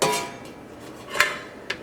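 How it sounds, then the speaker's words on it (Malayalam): A metal stand set down inside a pressure cooker before baking a cake, giving a few light metallic clinks and a brief scrape, close and fairly quiet. "ഈ ഇതിൻ്റെ ഉള്ളിലേക്ക് കേക്കിൻ്റെ ട്രേ വെക്കാൻ വേണ്ടിയിട്ട് ഇതേപോലത്തെ ഒരു ബേസ് വയ്ക്കുക."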